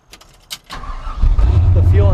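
A 1968 Chevy C10 pickup with fast EZ EFI fuel injection and cheap aftermarket mufflers cranks and fires up, settling into a loud, rumbling idle after a few clicks and brief starter noises.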